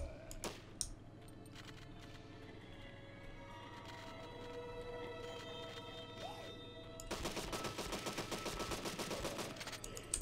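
Gunfire from the video game Deadly 30, a few sharp isolated shots early, then a sustained rapid burst of automatic fire near the end over a humming, tonal game backdrop.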